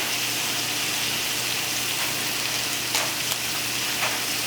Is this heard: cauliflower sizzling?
yes